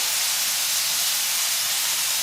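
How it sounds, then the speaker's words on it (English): A steady, loud, broadband hiss of chicken skin sizzling hard in a hot skillet, continuous and close with no talking. "if you don't hear that sizzle, you ain't cooking"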